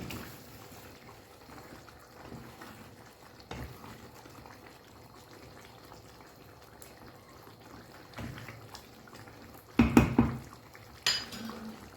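A spoon scrapes and knocks against a pot while ingredients for a simple Indian dish are stirred together, a low continuous shuffling with a few louder metallic clanks toward the end, close and without talk.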